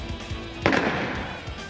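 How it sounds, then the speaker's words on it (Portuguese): A single sharp gunshot from recorded robbery footage, a sudden loud bang that rings out over low background noise. "vamos escutar na sequência para a gente ouvir um tiro assustador"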